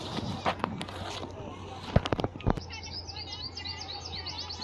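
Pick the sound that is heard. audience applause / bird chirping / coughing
bird chirping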